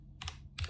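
Keystrokes on a computer keyboard while typing into Notepad, two short bursts of clicky taps about a third of a second apart, close and fairly quiet with no talk.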